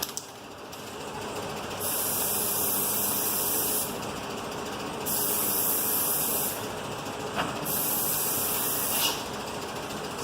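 Several bursts of hissing spray from an aerosol can onto a taped, sanded car headlight, each lasting a second or two, over a steady background hum.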